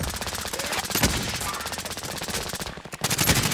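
Rapid automatic gunfire from a shooter video game, dense bursts of shots rattling almost continuously and loudly, with a brief gap near the end before firing resumes.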